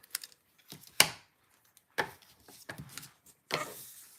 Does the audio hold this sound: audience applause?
no